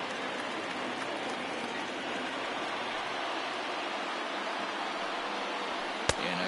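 Rain falls steadily as a dense, even hiss that fills the whole stretch, with a single sharp click near the end.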